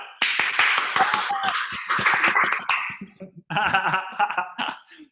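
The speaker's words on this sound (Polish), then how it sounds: "this is going to be a round of applause for Magdalena for translating" A handful of people on a team call clap and tap for their translator, sharp uneven claps and snaps up close, mixed with chuckles and a few voices talking over them before the claps thin out.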